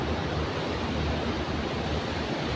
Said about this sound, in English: That's a beautiful waterfall right there.